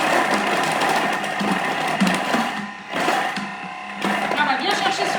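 A Thermomix mixes dough for a crown tart, its motor whirring loudly and steadily with brief dips as the load shifts, while someone speaks over the machine.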